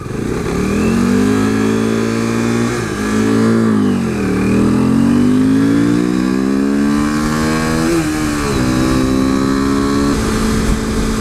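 Engine of a modded 2015 KTM RC 390 single-cylinder sport motorcycle while riding, loud and close throughout, with rising and falling revs and gear changes, with no talking over it.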